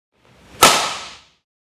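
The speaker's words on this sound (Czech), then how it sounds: "Čistě udeřený slice má charakteristický zvuk." A tennis racket strikes the ball for a clean slice shot, a single sharp crack that opens with a brief swishing lead-in and fades quickly, close and alone without voices.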